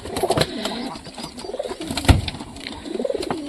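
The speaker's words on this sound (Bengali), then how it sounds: "দেখো বাচ্চাটা, দেখো ডাকতেছে কেমন, টোকাটুকি করতেছে কেমন ভাবে দেখো" A newly hatched pigeon chick calls with short, soft cheeps and coos, close by and fairly quiet, with a louder peck-like knock near the middle and faint background noise throughout.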